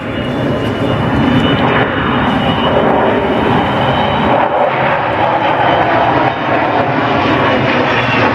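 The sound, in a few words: Avro Vulcan bomber jet flying low overhead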